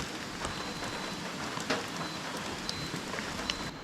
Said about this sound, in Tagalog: medyo naulan po uli ang ating panahon dito